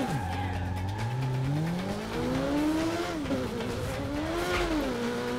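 A motorcycle in Burnout Paradise Remastered revs continuously, its engine pitch climbing and dipping through gear changes, loud and close, with brief tyre noise.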